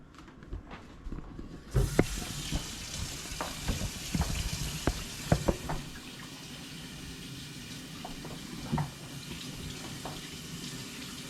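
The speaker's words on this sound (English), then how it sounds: "I gotta wash my hands." Running tap water pours steadily for about eleven seconds while hands are washed at a kitchen sink, with scattered splashes and small clatters near the start and middle; no one talks.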